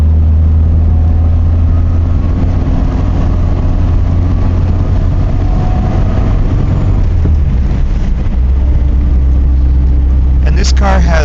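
A right-hand drive Triumph 1500 TC on the road on a cold morning, its engine giving a steady low drone from inside the cabin, with a short rattling burst near the end.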